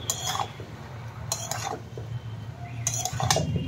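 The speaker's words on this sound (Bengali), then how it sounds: "তরকারির ঢাকাটা খুলে দেখি তরকারি কতটা হলো আমাদের" A metal lid lifted off a pot of cabbage curry made with small fish, giving a few sharp clinks and scrapes in bursts near the start, middle and end over a steady low simmer, close by.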